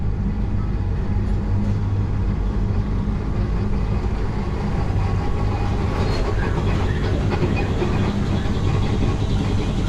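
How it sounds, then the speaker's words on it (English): Tampa streetcar pulling up at a station in Ybor City, a steady loud rumble of rail vehicle and engine noise filling the whole stretch, with outdoor street ambience and faint voices underneath. "As you can see, the streetcar pulling up right over here."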